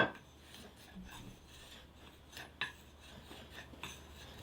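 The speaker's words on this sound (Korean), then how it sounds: "공구들을 한쪽에 모아두고 끌로 나무를 깎는다" A chisel carves a piece of wood set on a sawn tree-stump workbench in a rural Korean village workshop, giving faint, scattered scraping and rasping strokes with a few sharper knocks, no voices.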